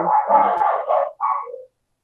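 Dogs bark in a short burst of a few yaps and barks, fairly close, followed by a brief higher yelp before silence.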